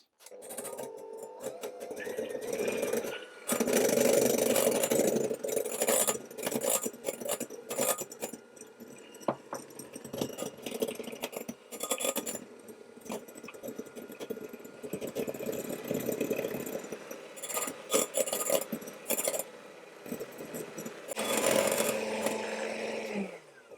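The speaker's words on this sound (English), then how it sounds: "I'm going to whisk until the egg whites have achieved stiff peaks." An electric mixer whisks egg whites with sugar to stiff peaks in a bowl, a continuous close motorized whirr with rattling, shifting in intensity over a long stretch.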